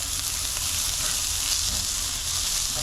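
Rice and onion fry in hot oil over high heat, a dense, even sizzle that stays loud and close throughout as the mixture is stirred.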